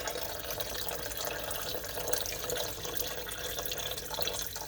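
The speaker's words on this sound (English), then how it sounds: "that's where I pour the water, right in the middle" A quiet, continuous splash and trickle of water poured into a pot of oxtails and beans, steady for several seconds with no speech.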